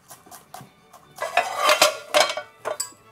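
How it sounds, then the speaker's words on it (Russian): Several cloves of young garlic are cut with a knife on a board, giving irregular clacking taps that cluster into a busier run of knocks, close and clear with no talking. "3-4 зубчика чеснока режем."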